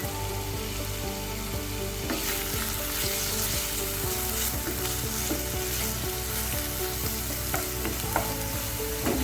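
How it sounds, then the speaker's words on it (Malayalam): Crushed shallots sautéing in hot coconut oil in a pan, a dense continuous sizzle and crackle with frequent stirring clatter, loud and close, no voices. "ഇനി ഞാൻ പാനിൽ അടുപ്പം വെളിച്ചെണ്ണ വെച്ചിട്ട് നമുക്ക് ഞാൻ ചതച്ച് വെച്ച ഉള്ളി അതിലേക്ക് ഇട്ട് കൊടുക്കുകയാണ്"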